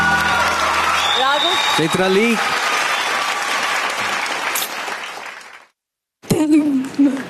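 Studio audience on a televised dance competition stands and applauds a dancer, dense clapping and cheering filling most of the clip, broken by a brief silence before voices return.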